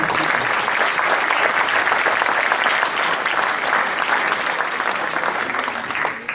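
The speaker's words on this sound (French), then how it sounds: "Donc quelques applaudissements aussi." Steady, loud applause from a crowd at a youth handball event, continuous dense clapping that tapers slightly toward the end, no voices standing out.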